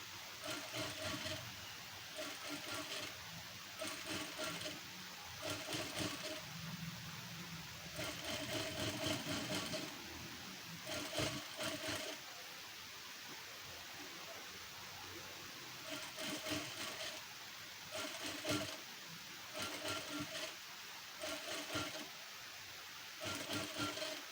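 A sewing machine stitches a strip onto a blouse in a series of short, rapid bursts separated by brief pauses, its close mechanical rattle repeating through the whole stretch.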